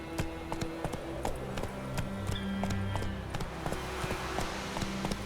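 Roach the horse galloping in The Witcher 3, hooves clopping in a quick steady rhythm, close and clear, with a faint voice briefly underneath.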